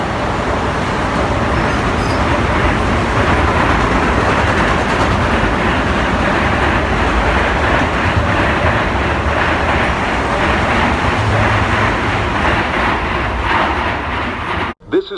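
A Bombardier M7 commuter train runs through Woodside station, giving a loud, steady roar and rumble of wheels and cars that carries without a break for about fifteen seconds before cutting off abruptly.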